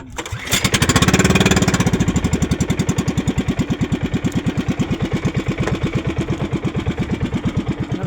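An engine starts and settles into a steady, loud, rapid chugging idle, running close by with no voices.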